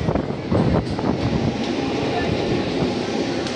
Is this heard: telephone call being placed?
no